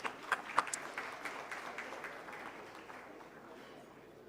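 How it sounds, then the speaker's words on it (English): Audience applause at a national management convention, a faint scattered clapping that swells briefly in the first second and then thins out and fades over the next few seconds. "let's welcome them with a huge round of applause"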